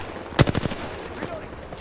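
A quick burst of gunfire in a first-person shooter video game: four or five rapid, sharp shots fired close together, loud and up front, then fading into quiet background.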